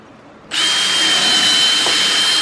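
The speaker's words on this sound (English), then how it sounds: "Drill the screw hole." A power drill starts abruptly and runs at a steady, high whine, loud and close, with no talking, drilling a screw hole in the wooden top bar of a Langstroth beehive.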